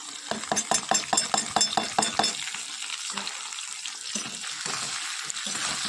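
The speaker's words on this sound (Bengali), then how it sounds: "একটু ভালো করে কষিয়ে নিই সব কিছু দিয়ে।" Pointed gourd curry being stir-fried with ginger-garlic paste, sauce, cumin and chilli powder, a spatula scraping and tossing in rhythmic strokes over a steady close sizzle, the stirring fading after a few seconds into continuous frying.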